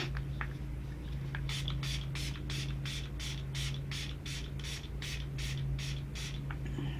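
A small setting spray bottle is shaken rapidly, giving about a dozen short, even rattling bursts close by against a low steady hum.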